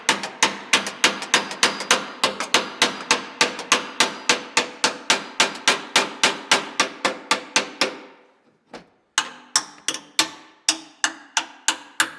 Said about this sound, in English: You took the claw hammer to use it for a video?